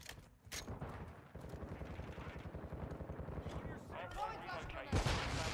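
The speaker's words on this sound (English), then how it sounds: "Let's just blow our eardrums out while... Using a shotgun." Shotgun blasts from the video game Modern Warfare 2 punch through near the start and end over a dense, continuous bed of game gunfire and rumble, with voices talking over it.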